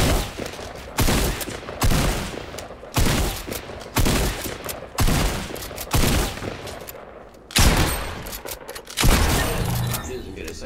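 A drum shotgun fires on a shooting range in a video game, loud booming blasts landing about once a second, roughly nine in a row, each fading before the next, with a voice speaking between them.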